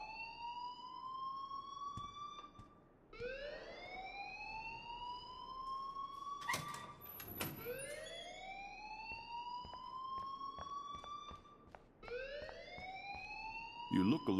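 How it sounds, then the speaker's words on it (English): An alarm blares in the video game Life is Strange: loud rising siren-like whoops repeat about every three seconds, with a voice talking over them and a brief clatter midway. "please turn off that alarm since that's your job"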